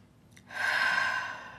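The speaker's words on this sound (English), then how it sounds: "Nice deep belly breaths." One long, deep exhale from the belly during a morning breathing exercise, a soft airy breath that swells and slowly fades, heard close and alone.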